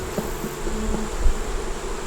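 Honeybees drone steadily at an open hive with nurse bees and hatching brood, a dense close buzz holding at even volume throughout without any voices.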